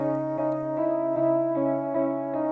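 A slow, steady halftime hourglass preset beat with sustained tonal layers and soft rhythmic hits about every 0.4 seconds, no voices.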